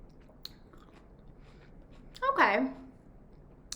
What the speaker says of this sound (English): I'm going to take a little bite. Okay, it's crunchy.